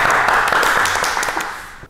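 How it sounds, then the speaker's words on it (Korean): Brief applause at a detailing talk show, a short burst of clapping that starts loud and close, then tapers off over about two seconds before cutting out. "박수 쳐야 돼?"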